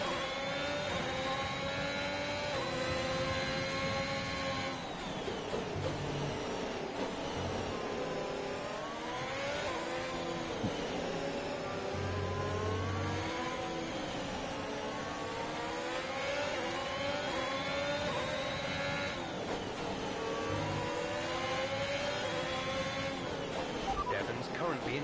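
Formula 1 car engine from the F1 2021 racing game, a continuous high-pitched whine rising and falling with gear shifts throughout, with a player's voice talking over it much of the time.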